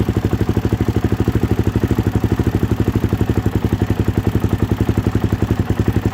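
A 2013 Suzuki DRZ400SM motorcycle engine idles just after its first start, with loud, close, even thumping pulses in a fast steady rhythm and no talk.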